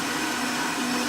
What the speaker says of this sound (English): there's a lot of vibration going on with our blender.